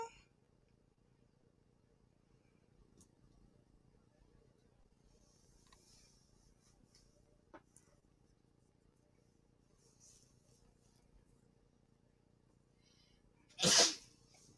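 One sharp, loud sneeze bursts out near the end after a long stretch of quiet room tone with faint background noises.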